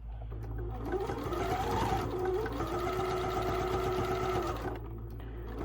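A sewing machine back stitches a fabric casserole carrier in one continuous run of about five seconds, a close, steady whirring hum of the motor and needle that stops abruptly near the end.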